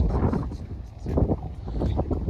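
Steady wind buffets the microphone outdoors at a large abandoned house in Canada, a heavy low rumble with gusting swells that runs throughout.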